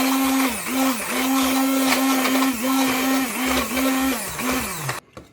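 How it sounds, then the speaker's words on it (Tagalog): A blender whirs loudly and close, chopping garlic in pineapple juice, its motor pitch dipping and recovering repeatedly, then cuts off abruptly near the end. "So ito i-blender ko muna."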